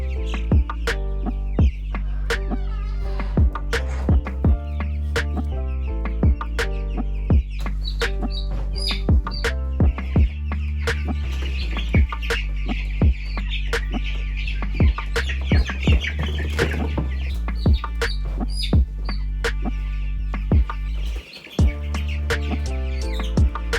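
A flock of Cornish Cross meat chickens let out of their brooder onto grass on a farm: loud, close, continuous clucking and chirping from many birds, with frequent sharp calls overlapping throughout and no talking.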